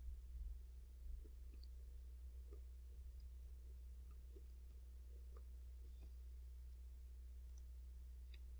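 A computer mouse clicks quietly at a desk, a handful of faint, sharp, irregularly spaced clicks over a low steady hum, with no talking.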